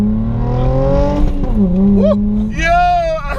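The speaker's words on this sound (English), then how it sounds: "gonna drop the clutch" A Mercedes C300 engine revs and accelerates as the clutch is dropped, the pitch rising in strong harmonic sweeps, then climbing again after a shift. People talk over the engine.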